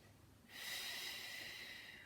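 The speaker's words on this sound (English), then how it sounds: "Keep breathing deeply." A single deep breath during a yoga triangle pose, an airy hiss that starts abruptly about halfway in and holds steadily, faint and close with no talking.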